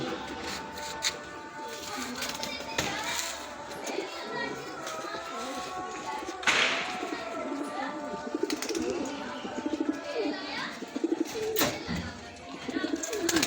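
A breeder's pigeons cooing softly in an outdoor loft, low repeated coos and some chirps under someone speaking and background voices of children.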